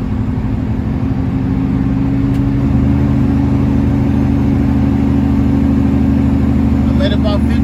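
Semi truck engine on a mountain downgrade shifting from high to low range, a steady low droning rumble with a constant mid whir that shifts slightly in pitch partway through, loud and close throughout.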